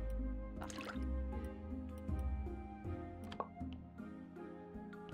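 Water being collected in the Graveyard Keeper video game comes through as soft, close dripping and liquid squishes, a few small splashes over a quiet, steady game music bed.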